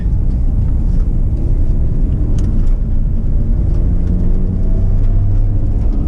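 Mazda RX-7 on new sticky tires driven through corners, heard as a steady, loud engine and road rumble that continues throughout, with no talk over it.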